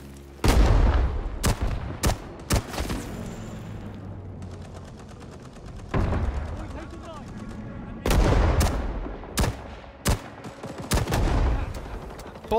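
MAS-49 rifle shots in the video game Rising Storm 2, sharp close cracks in scattered bursts of single shots with echoing tails, someone talking between some of them.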